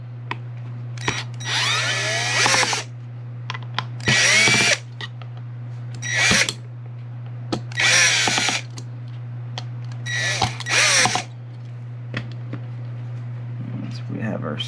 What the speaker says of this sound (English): Let's get our better drill out here.